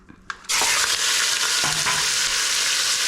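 Meat dropped into hot cooking oil bursts into a loud, steady sizzle with crackling splatter after a brief quiet start, continuous and close with no talking.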